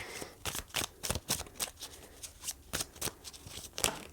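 Tarot cards shuffled by hand, a rapid series of crisp riffling flutters and taps in irregular bursts, close and fairly quiet.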